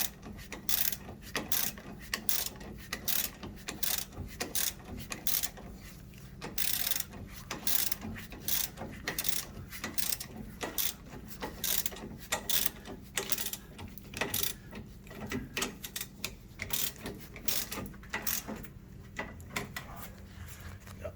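A ratchet wrench tightens the nut on a car's rear sway bar link, giving a long run of quick, close metallic clicks in repeated bursts.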